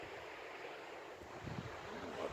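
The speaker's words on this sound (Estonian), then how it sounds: "ilus, vaikne meri ja tühi rand" Calm sea waves washing on an empty beach, a soft continuous hiss of surf with gentle swells, faint and distant under light wind.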